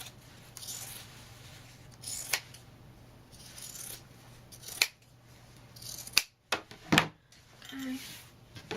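Scissors trim fabric and lining seams for a round moon-shaped clutch bag, giving several quiet, crisp snips spaced irregularly against a low background hum.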